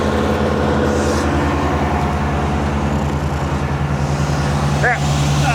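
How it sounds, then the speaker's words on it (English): A tractor rolls during a driveway restoration job on a 1980 Dodge W150 pickup, its engine a close, steady, chugging low drone throughout, with brief voices. "Tractor's rolling."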